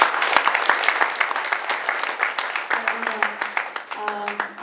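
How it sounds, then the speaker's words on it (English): Audience applause after a Bollywood song performance at a community music event, dense steady clapping from a crowd that carries on throughout, loud and close, with a few sustained musical tones surfacing near the end. "A big round of applause for all of them,"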